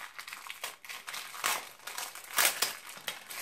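Packaging crinkles and crackles as a small golden heart, a 50-cent trinket, is unwrapped, in close irregular bursts with the loudest crunches near the middle and end.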